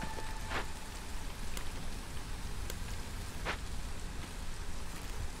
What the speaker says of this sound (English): But now we have come out of the storm and into the drizzle.